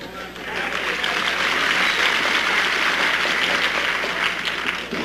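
A large arena crowd at a professional wrestling match applauds loudly and steadily, a dense wash of clapping with faint voices mixed in throughout.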